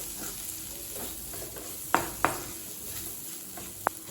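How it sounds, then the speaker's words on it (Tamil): Onion, tomato and capsicum with chili powder being stirred and sautéed in a pan, a soft continuous sizzle with a few sharp spatula scrapes and taps against the pan, close and alone. "இப்போ மிளகாத்தூள் வாசனை போக 1 நிமிஷம் வரைக்கும் வதக்கியாச்சுங்க."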